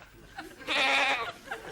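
A voice imitates a goat with a single drawn-out, wavering bleat, loud and close.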